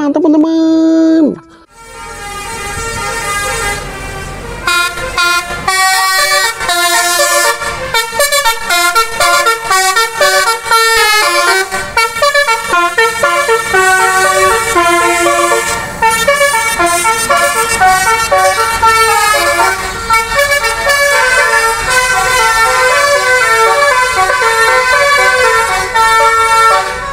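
A Tunggal Jaya Blackwing JB5 bus sounds a loud, melodic musical horn, a long run of rapid toots and tune-like phrases playing almost continuously after a brief pause at the start, close and dominant throughout.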